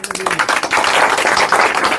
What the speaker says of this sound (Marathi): महानगरपालिकेच्या ह्या चांगल्या उपक्रमासाठी टाळ्या वाजवा बरं सगळे।